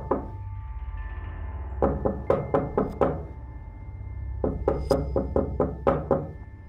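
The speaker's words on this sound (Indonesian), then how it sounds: "Nggak lama Risa ngetok pintu" Someone knocks on a door in several quick bursts of sharp wooden raps, two or three hits at a time, close and fairly loud with pauses between groups, in a quiet indoor room.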